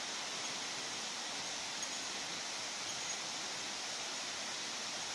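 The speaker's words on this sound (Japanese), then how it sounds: "こちらカムイワッカ湯の滝となってます。" A steady, unbroken rush of falling water from Kamuiwakka hot spring waterfall in Shiretoko, Japan, hot spring water pouring nearby, with no pauses or other sounds.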